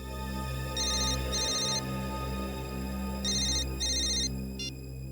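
A mobile phone rings with two paired bursts of an electronic ringtone, then a pause and two more, over a steady low background hum.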